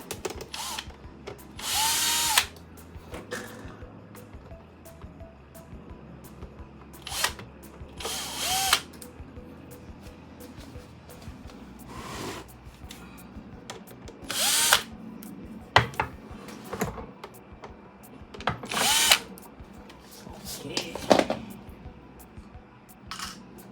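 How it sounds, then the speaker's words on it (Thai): A power screwdriver backs out the side cover screws of a Dell monitor, whirring in short repeated bursts separated by pauses, close and fairly loud, with faint handling noises between. "ต่อไปก็ถอดน็อต น็อตฝาข้างครับ"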